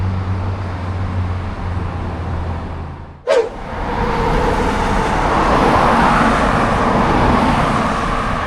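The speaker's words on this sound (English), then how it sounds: "Yes, cars are flying here." Traffic hums steadily on a roadside in Guam, then one car speeds past close by with a sharp rushing whoosh, followed by a louder, sustained roar of more cars passing.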